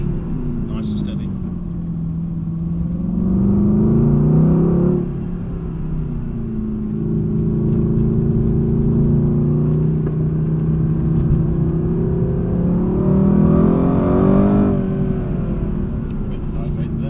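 A Mercedes AMG GT on a hot lap on a handling track: engine note rising and falling as it accelerates and backs off, with two clear revving surges, close and loud under ongoing talk.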